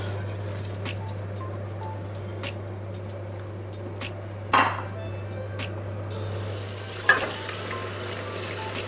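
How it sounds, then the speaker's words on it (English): Eggplant sauce simmers with a soft bubbling sizzle in a pot as a spoon stirs now and then, making a couple of sharper scraping knocks against the pot, with no talking over it. "occasionally you mix up the sauce too, so it doesn't stick to the bottom of the pot"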